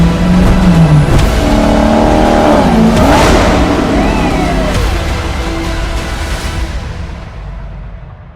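A Dodge Challenger SRT Hellcat muscle car engine roars loud and close, rising and falling in pitch through revs, then fades slowly toward the end.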